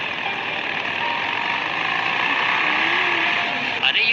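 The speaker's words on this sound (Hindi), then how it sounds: "ये गाड़ी की आवाज कैसी है, लगता है कोई आ रहा है।" A vehicle engine drones steadily and grows slightly louder as it approaches in a Granny-style horror game, a continuous rumbling hum with a brief clatter at the very end.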